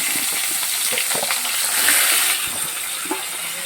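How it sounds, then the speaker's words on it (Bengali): Broad beans (shim) lightly frying in leftover oil from fish, a steady close hiss of sizzling with small crackles and a few stirring scrapes throughout, no voices. "যে তেলটা আছে সেই তেলে শিমগুলোকে আমি হালকা করে ভেজে নেব"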